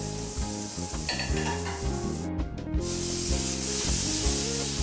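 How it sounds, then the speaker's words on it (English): Butter melts in a hot frying pan with a constant crackling sizzle and faint spattering, close and alone with no voices. "I got my frying pan already hot, and I have like about 1 large tablespoon of butter. I'm just going to put it there. Let the butter melt a little bit."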